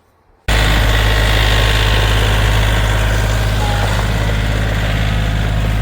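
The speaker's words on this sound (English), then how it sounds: "I went ahead and let Jamie operate the tractor" A tractor engine starts up abruptly after a brief quiet moment, then runs steadily and loudly at a close, even idle with a deep low rumble and constant vibration throughout.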